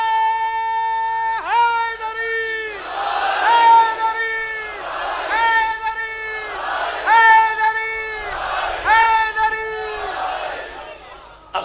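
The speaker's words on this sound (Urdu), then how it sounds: "سارے ایمان والے نعرے لگاتے ہو نا، تو مل کے لگایا کرو" A large crowd of believers at a Muharram majlis chants religious slogans in unison, loud and close, in several repeated rhythmic bursts of tonal, sustained shouting.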